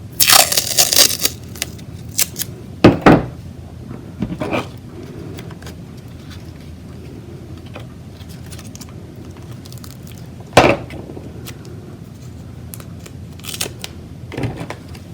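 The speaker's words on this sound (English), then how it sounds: "tape it right to the front." Adhesive tape pulled and pressed onto a stack of paper glider pieces, a few sharp crinkly tearing and crunching bursts separated by quiet stretches, close by with no talk.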